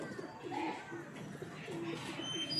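A pigeon coos in a few soft, low, rounded calls against a murmur of background voices and children at play.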